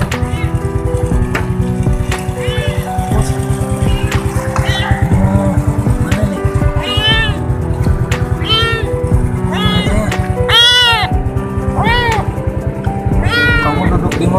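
Abandoned village kitten meowing repeatedly in short, rising cries close by, over a steady low engine-like rumble, with a person talking at times.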